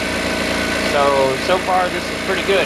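A California Air Tools Syclone 6310 ultra-quiet, oil-free air compressor hums steadily at a fairly low level while someone talks over it.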